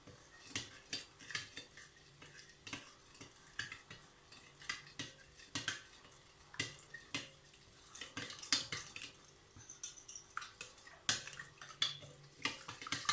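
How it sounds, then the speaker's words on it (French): Bread dough being mixed in a bowl for oven-baked bread, with soft irregular taps and clinks of a utensil against the bowl repeating throughout; quiet and close, with no talking. "Je mélange un petit peu."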